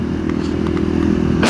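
A 2019 KTM 500 EXC-F supermoto runs steadily throughout, with a continuous low engine drone, close and fairly loud, and a brief rise in noise at the very end.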